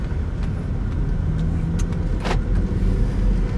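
A car's engine is warmed up with a drive before an oil change, heard from inside as a steady low rumble and road hum, with a few faint clicks and rattles over the continuous drone.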